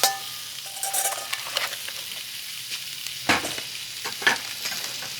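Kielbasa sausage sizzles steadily in a hot pan while a utensil scrapes and stirs it, with a few sharper clicks and scrapes, close by.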